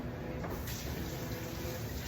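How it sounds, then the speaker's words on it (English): Running tap water pours steadily while hands are washed under it, a continuous broadband splashing rush at moderate level with no talking. "Let's wash both hands again."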